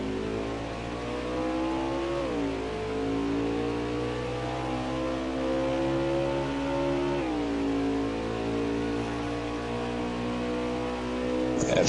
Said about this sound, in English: Right on the hood cam so we can listen to Billy's motor.